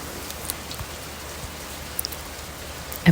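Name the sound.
rain at night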